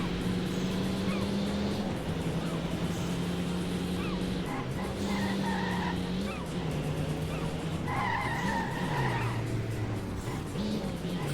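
A car spinning out and skidding in the racing game World Racing 2: a steady droning engine note runs throughout while sliding tire squeals rise and fall several times, loud and close, with no talk.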